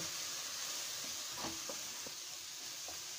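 Goat curry spice paste being sautéed and stirred in a pan, a steady low sizzle with a few soft scraping stir strokes, close and fairly quiet with no talking.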